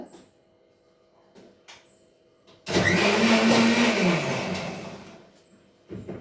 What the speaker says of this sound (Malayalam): നമുക്കൊന്ന് മിക്സിയിലടിക്കാം